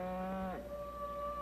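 A cow moos once, a long, close, loud low call that slides downward partway through and then holds steady to the end of the moment, with no talking.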